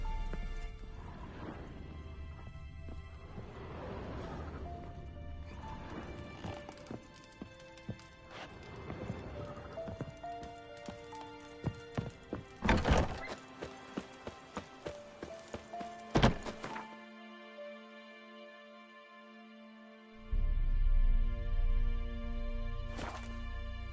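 A horse in the Witcher 3 video game clip-clops along in quick, regular hoofbeats with whinnies, the footfalls growing sharper before a brief quiet and a heavier rumble at the end, with faint music beneath.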